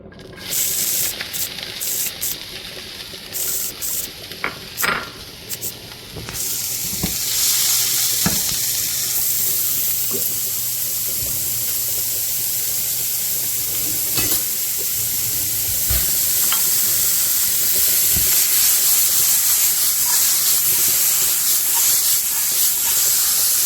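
Diced onions frying in a pan at home: a few clanks and stirring sounds, then a loud steady sizzle and hiss that continues with occasional scrapes, close up and without talking.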